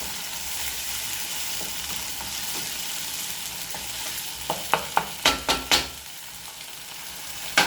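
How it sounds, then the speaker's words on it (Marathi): Spice paste frying in oil over low gas for a crab curry, a steady soft sizzle with a run of sharp stirring scrapes and clinks toward the end. "थोडंसं मसाला चांगला तेल सुटेपर्यंत दळते कमी गॅसवर."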